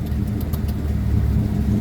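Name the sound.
1954 Ford Popular 103E engine running with choke in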